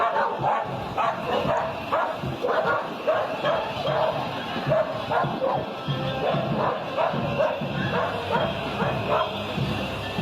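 Dogs bark and yip repeatedly in a rapid, uneven series amid a noisy street protest, with a crowd and voices mixed underneath.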